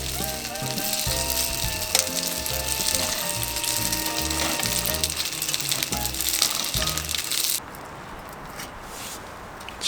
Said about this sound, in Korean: 지글지글 맛있는 만두를 좋아하면 너무 기분 좋아요